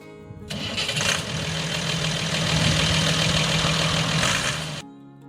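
A 1970 Allis-Chalmers 185 diesel farm tractor engine, heard close and steady as it runs with a rough, low throb for several seconds, then stops abruptly.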